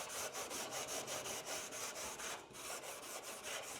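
A red abrasive pad is scrubbed back and forth over the rusty steel door skin of a second-generation Camaro, producing a continuous close, rhythmic rasping with regular strokes about every quarter second, with nobody speaking.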